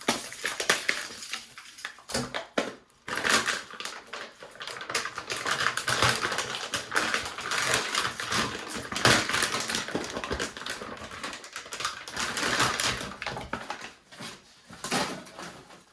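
A paper knife slices open the vacuum-sealed packaging of a spool of 3D printer filament, a long run of close crackling, scraping and rustling plastic with irregular bursts and brief pauses.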